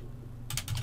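A short burst of quick keystrokes on a computer keyboard, close and crisp, following a brief quiet moment, with no talking.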